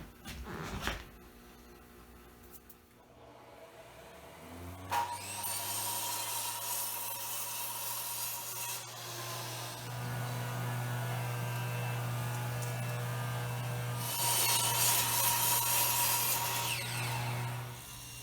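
Boards are milled from a weathered piece of white pine with a power tool that starts up and runs as a steady loud drone. The cutting grows rougher and louder near the end, and no one speaks over it.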